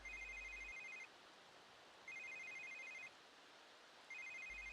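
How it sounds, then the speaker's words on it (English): A telephone rings inside The Sims 3, three repeating electronic ring bursts about a second long with short pauses between them, steady and clear with no voices. "apparently we're going to have to listen to Valhalla's phone ringing while we consign our junk."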